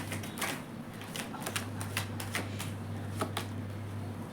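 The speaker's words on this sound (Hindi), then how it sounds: "पहले मैं सारे कार्ड्स निकालूंगी" Tarot cards being drawn from a deck: a series of light, crisp flicks and slides close by, irregularly spaced over a low steady hum.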